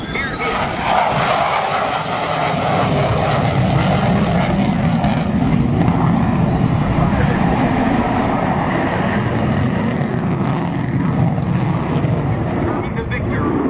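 Loud, steady roar of large aircraft engines through a tight, high-g air show turn, a broad sustained rumble with no breaks, heard alongside commentary.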